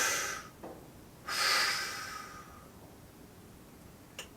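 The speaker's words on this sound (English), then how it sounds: "We're going to do 5 more of these breaths" Slow, deep breaths during a back and hips mobility exercise, with a soft inhale followed by a longer, louder exhale through the nose, close and quiet, and a brief sniff near the end.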